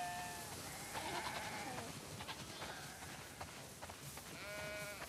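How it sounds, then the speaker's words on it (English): Sheep bleat in The Last of Us Part II video game, several wavering calls from a flock near and far over a soft outdoor background, with no talk. "Wow, that's a lot of sheep."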